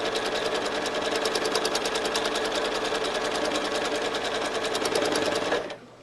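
A sewing machine runs fast and steady while free-motion stitching a spiral into a quilt, a loud, even mechanical whir with rapid needle pulses that stops abruptly near the end.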